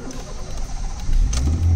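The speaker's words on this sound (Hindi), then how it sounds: "और गाड़ी स्टार्ट हो गई है मेरी" A car engine cranks and catches after a fuel pump replacement, a low rumble building up to a steady idle close by, with no voices.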